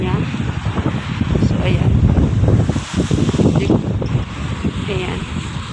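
Wind gusting outdoors beside a Holiday Inn hotel, buffeting the microphone with a loud, rough roar that swells and eases, while a person talks over it.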